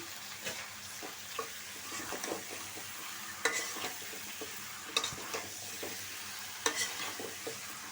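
Chicken is stirred and fried with spices, giving a soft, quiet sizzle broken by sharp, irregular clicks and scrapes of a spatula against the pan, with no talk.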